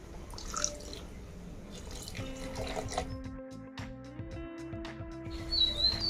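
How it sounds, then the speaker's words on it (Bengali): Water is poured from a tap or jug into a pan for pasta gravy, a faint trickling and dripping against a quiet kitchen background with light clinks and a high chirp. "গ্রেভির জন্য দিয়ে দিচ্ছি পরিমাণ মতো জল"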